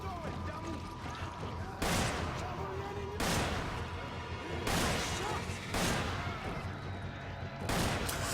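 Submachine gun fire from a small, low-powered weapon in Resident Evil 5: five loud, sharp bursts spaced about a second apart over a constant bed of game ambience.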